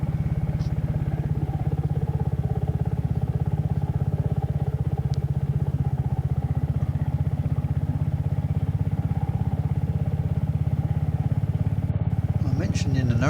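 A Royal Enfield Hunter motorcycle cruises along a road down towards the seaside, its engine a steady low drone with constant wind rush throughout, close and loud, with a brief rustle near the end.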